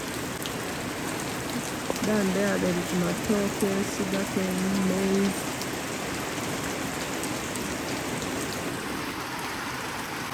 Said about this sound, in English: So they are going to grow because it has got rain.